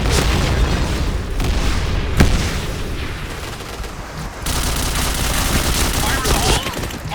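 A grenade blast and gunfire from the Point Blank shooter game form a loud, dense barrage of booms and rapid shots that never lets up, with a short sharp crack partway through.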